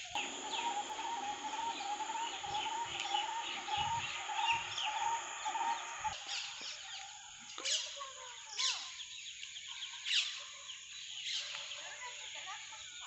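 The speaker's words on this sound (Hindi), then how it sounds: "अभी शाम का वक्त है तो चिड़ियों की चहचहाट बहुत सुनाई दे रही है।" Birds call and chirp at dusk on a campus in Roorkee, a dense chorus of overlapping calls with sharper individual cries standing out toward the end, moderately distant and fairly faint.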